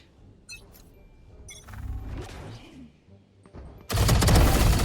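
Odin machine gun firing in Valorant, a dense roaring burst of automatic fire at the end after quieter scattered game sounds and faint talk.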